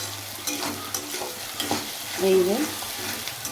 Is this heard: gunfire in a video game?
no